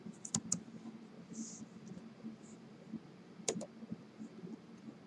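A computer keyboard clatters faintly as a search query is typed in, a few sparse clicks and short bursts of keystrokes over a quiet room background.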